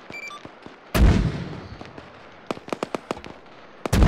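Mortar rounds fire in the military shooter Arma 3. One loud, sharp launch boom rolls off into a rumble. Several quicker, lighter reports and clicks follow, and a second heavy blast lands at the end.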